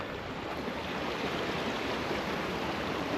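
Steady rushing of a river flowing past, a broad continuous wash of water noise with no breaks, heard close and fairly loud while out on a bike ride.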